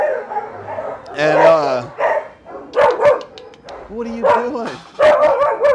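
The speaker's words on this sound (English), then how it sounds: "This one's a Beagle mixed female, and she does not like my phone for some reason" A female Beagle mix at an animal shelter barks and yips sharply in short bursts close by, with some whimpering in between, while a person talks to her.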